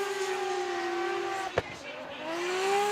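A Toyota GR86 drift car at Okayama screams at high revs through a sustained engine tone that dips and climbs again, heard at a distance under commentary voices.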